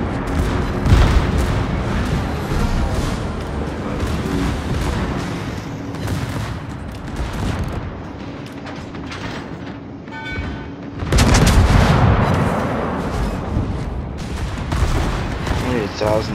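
Battleship gun batteries of the New Mexico firing in World of Warships, a dense rumbling barrage of booms that swells loudly near the end over a steady game background, with no speech.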